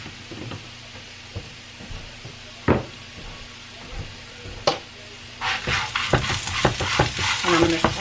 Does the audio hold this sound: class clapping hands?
no